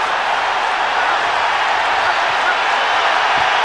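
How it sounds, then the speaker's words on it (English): Boxing arena crowd roaring during a bout, a dense steady wash of cheering and noise, loud and continuous throughout with no breaks. "Listen to the crowd here, too."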